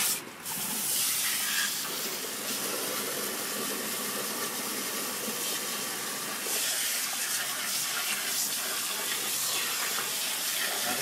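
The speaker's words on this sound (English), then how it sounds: "This is a high volume hose, but watch, this will start foaming out." A high-volume hose sprays water in a continuous loud hiss at a sewage cleanup, steady and close throughout, with a brief surge at the start.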